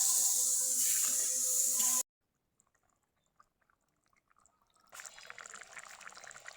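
Pointed gourd and potato pieces tip into a curry that has been fried down, giving a brief loud pouring, sizzling rush that cuts off abruptly, followed by near silence and then a softer, steady simmering hiss.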